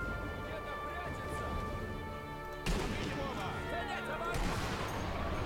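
A single sniper rifle shot from the World War II shooter Sniper Elite V2 cracks out sharply near the middle, followed by a busier burst of game noise and music; a voice talks throughout.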